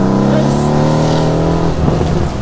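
A Mercedes C63s AMG V8 revs loudly and close up, a thick, steady engine roar that holds its pitch, then breaks into rougher bursts near the end.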